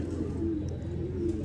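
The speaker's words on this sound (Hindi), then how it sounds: "कबूतर मेरे हाथ में है" A pigeon from the Lucknow market held in a hand gives soft, low, repeated coos, faint and close, with no talk.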